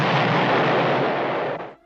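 Explosion from the 1980s action TV series The A-Team, a loud dense broadband roar sustained for nearly two seconds before cutting off abruptly.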